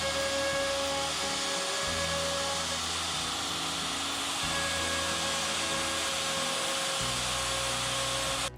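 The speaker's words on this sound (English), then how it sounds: "take a ball nose bit, or you could even use a drill bit and put it in a rotary tool" A rotary tool fitted with a ball nose bit carves small craters along the grain of a wood board to distress it. It gives a continuous whining buzz whose pitch drops and rises as the load changes, with no speech.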